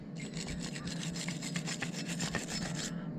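A grinder scrapes paint off a weld on a broken Westendorf loader with a steady, rough rasping that holds at a moderate level for a few seconds.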